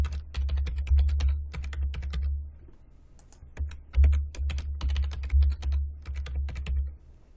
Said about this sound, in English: we'll go ahead and type in that new password